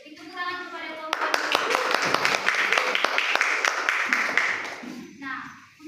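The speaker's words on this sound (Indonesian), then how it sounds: "Tepuk tangan kepada kelompok" A classroom of students applauding a student group, a dense patter of hand claps lasting several seconds and close by, with voices before and after it and faint talk underneath.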